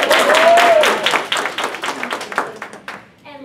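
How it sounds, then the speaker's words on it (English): An audience at a panel discussion claps for an arriving guest, a burst of applause that starts full and thins into scattered claps before fading out. "Give her a round of applause."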